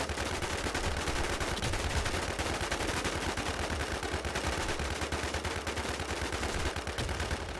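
Rapid automatic gunfire from the video game H1Z1 rattles on almost without pause, dense and loud, with sharp repeated bursts throughout and no voices.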